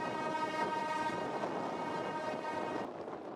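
A train passing Sibambe station in the Ecuadorian Andes on the Alausí–Sibambe line, a steady rumbling rail roll with a tonal horn-like hum running throughout, fairly faint and continuous, with no voices.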